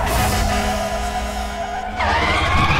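Tires skid and squeal as a race car slides in Need for Speed The Run, a loud sustained screech over steady engine roar, intensifying near the end with no voices.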